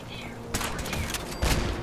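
A holorifle in the ModBox video game fires a quick burst of sharp shots, two louder cracks standing out over background game noise, close and punchy.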